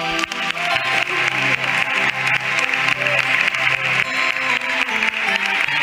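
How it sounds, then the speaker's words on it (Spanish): An evangelical church congregation claps together during a Spanish-language sermon, a dense and steady wash of hands that runs throughout, with sustained music tones beneath it. "Dele otro aplauso a Jesús"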